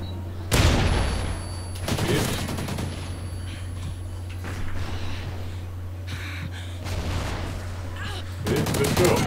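Bursts of gunfire in a multiplayer shooter Domination match, sharp volleys at the start and recurring clusters of shots later, mixed with game ambience and occasional faint voices.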